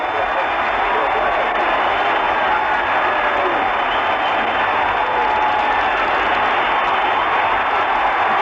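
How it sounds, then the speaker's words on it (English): A stadium crowd at the 1976 ALCS Game 1 between the Yankees and Royals gives a standing ovation for Cookie Rojas, with steady, loud, sustained applause and cheering and a broadcaster talking over it. "He's getting a standing ovation."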